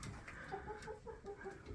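A flock of backyard chickens feeding from a hay net clucks in soft, repeated bursts, a steady patter of short calls at close range with no talk over them.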